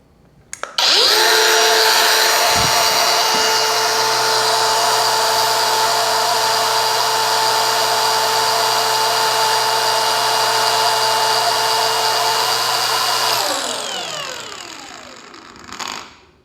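A DCA ADSM03-100 cordless brushless angle grinder spins up with a short click, holds a loud, steady high-pitched whine at full speed for about twelve seconds, then winds down gradually after release.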